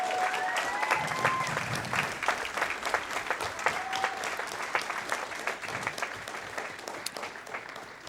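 An audience at a speedrunning charity marathon claps in a sustained round of applause with a few whoops, the clapping tapering off gradually toward the end.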